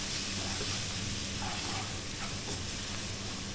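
Sliced onions sautéing with salt in a pan for a Kerala-style prawn curry with kudampuli, a dense continuous sizzle with occasional stirring scrapes, close and steady throughout.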